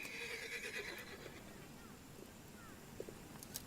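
A horse neighs loudly at the start, then fainter whinnies follow over a steady outdoor background with occasional knocks.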